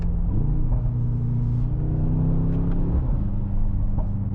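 Mercedes-AMG GT 63 S E Performance hybrid driven on the road, with a deep engine rumble and whir whose pitch rises and shifts through gear changes, steady and close inside the cabin with no talk.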